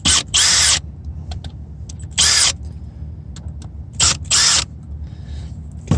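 Cover screws are backed out of a Baldwin 6070 Series patio-function mortise lock, heard as three short, loud whirring bursts from a driver separated by quiet pauses.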